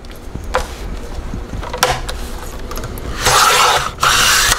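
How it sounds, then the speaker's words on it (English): Paper cut on a paper trimmer, with short scraping strokes and rubbing handling noises followed by a louder sustained slicing rasp near the end. "I'm going to trim that side off first."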